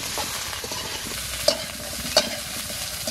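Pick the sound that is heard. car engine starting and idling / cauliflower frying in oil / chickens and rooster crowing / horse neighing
cauliflower frying in oil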